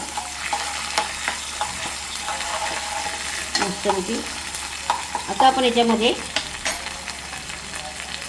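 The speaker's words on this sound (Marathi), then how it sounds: "कांदा फोडणीचा भाजून घेऊया" Onion with ginger-garlic paste frying in hot tempering oil for an egg curry, a steady close sizzle with stirring scrapes, while someone speaks briefly over it.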